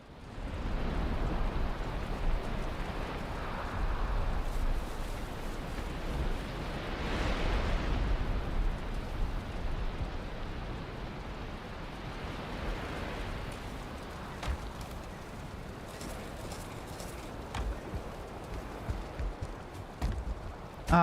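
Rain falling in Valheim, a continuous hissing wash of rainfall with occasional heavier gusts and soft thuds, moderately loud and steady throughout with no talk.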